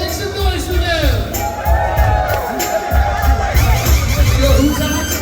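An indoor crowd at a card show in a historic theatre cheers and shouts for the LA Rams cheer squad: a loud, continuous roar of voices and whoops, with a voice calling out over it.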